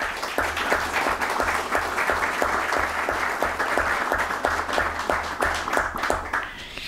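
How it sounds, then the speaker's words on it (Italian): An audience at a university summer school lecture applauds two parliamentarians, a steady, full round of clapping with a few individual claps standing out, lasting several seconds before easing slightly. "che vi prego di salutare con un applauso."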